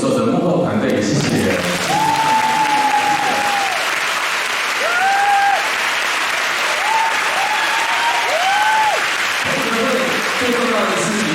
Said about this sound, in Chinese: 也谢谢各位的掌声